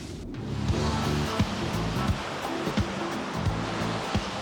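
Surf and rushing water where a river flows into the sea, a steady broad wash of waves with a few soft splashes, fairly close and continuous with no voices.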